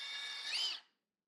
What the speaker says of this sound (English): So then you're going to drill